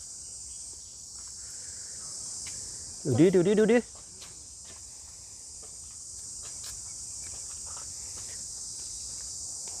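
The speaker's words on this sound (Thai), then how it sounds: "จิ้งหรีด เหมือนเราอยู่ในป่าดงดิบเลย" Crickets chirp steadily in a park field, a constant high trill running throughout, while someone briefly speaks over it near the start.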